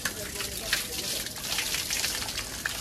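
Water splashing and gushing down after a Dahi Handi clay pot breaks at a festival celebration, a steady close wash of spilling water with faint crowd noise underneath.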